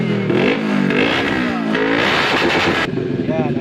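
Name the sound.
CFMOTO 400cc motorcycle engine revving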